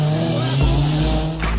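A 1959 Austin Mini drives past with a steady engine drone that swells midway, then ends with a short, bright tire squeal or skid near the finish.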